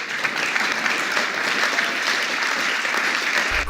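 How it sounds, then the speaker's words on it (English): Crowd applause at a freedom convoy rally in Ottawa, a loud, continuous wash of many hands clapping at close range, steady throughout with no clear speech. "Who would clap for that?"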